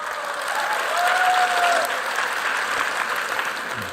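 An audience claps steadily for a few seconds, a warm wash of applause in a room that swells slightly and then holds.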